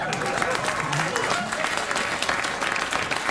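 Studio audience at a late-night comedy show breaks into steady applause, a dense spread of claps with faint cheering throughout.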